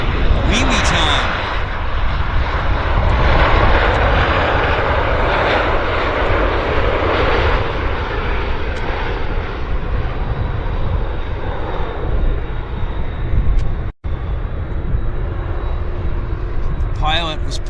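A heavy jet airliner lands at Vancouver International Airport, riding its nose wheel high as it rolls out. Its loud engine roar holds steady and near for the whole stretch, with a commentator talking over it.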